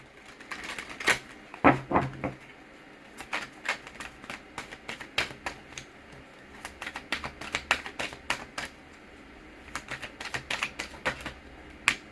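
Dream Oracle cards are shuffled and drawn, giving quick, crisp flicks and riffles in irregular bursts up close, with brief pauses between runs and no talking.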